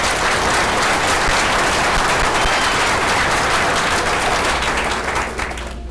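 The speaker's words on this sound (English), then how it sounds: "Give them a round of applause." Sustained, loud applause from a graduation ceremony audience at a technology center, dense and steady throughout before tapering slightly at the very end.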